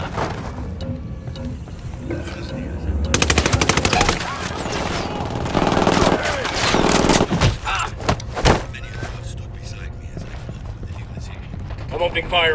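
Machine gun fire in the Ghost Recon Wildlands video game, with bursts of rapid shots at a resort amid explosions and loud mixed combat noise, spread over a long stretch with brief lulls.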